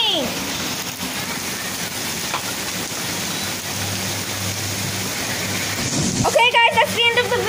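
Heavy rain and hail pour down in a dense, continuous hiss outdoors near parked cars, steady and loud throughout, with a voice speaking briefly near the end over the downpour.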